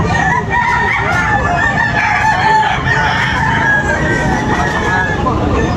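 Several roosters crow over a steady, crowded backdrop of chatter and clucking birds at a rooster sale in Batangas, the calls overlapping and fairly close.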